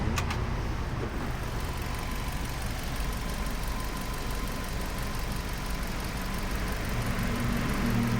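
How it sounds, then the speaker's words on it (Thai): A 2020 Suzuki food truck engine idles with a low, even rumble and faint mechanical ticking, steady throughout, with no one speaking. "เครื่องเงียบจริงๆ ครับผม"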